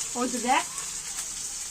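A steady hiss of fish sizzling in hot oil in a pan, close by, with a brief voice-like murmur near the start.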